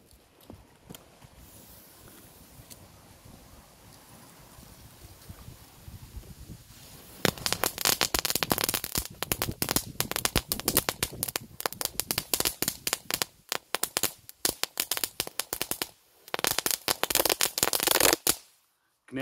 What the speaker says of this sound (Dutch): Gaan we verder met de knetterlinten.